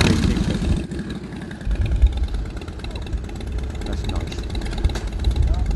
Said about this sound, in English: Heritage Softail.